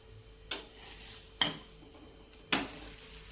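Poha breakfast snack frying in a pan, flipped with three sharp scraping clatters spaced about a second apart over a low steady sizzle, close and fairly quiet with no talk.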